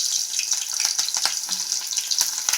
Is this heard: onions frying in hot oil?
yes